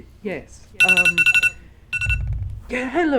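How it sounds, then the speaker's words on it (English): A phone alarm chimes in short repeated electronic tones, two quick bursts of bright beeping, with people talking briefly before and after it. "That was my alarm to take out the trash."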